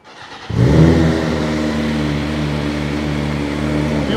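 After a brief quiet moment, a used superbike engine fires up and revs loudly nearby, then settles into a steady, throaty idle.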